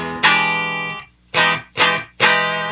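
An electric guitar played through a modeling amp set to a pentode Class A voicing rings out in four bright, crunchy strummed chords: one long sustained chord, then three shorter hits in quick succession, each decaying slowly.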